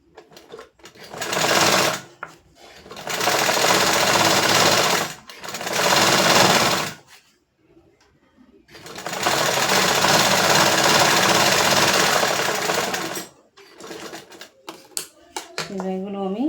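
A sewing machine stitches a half-inch seam in loud, close bursts of fast, even chattering, several runs stopping and starting, with brief handling noise and a voice near the end.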